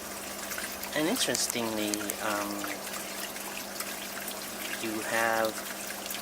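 Water from a freshly started aeroponics system splashing and leaking steadily beneath a constant pump hum, with someone talking over it throughout.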